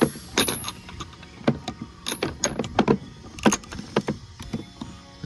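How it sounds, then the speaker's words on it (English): A 14 mm socket wrench on an extension works loose a tight bolt, sharp metallic ratchet clicks and clanks in irregular close bursts with short pauses between them. "I did pull out my 14 with my extension, so 14 millimeter with this to go ahead and take it off"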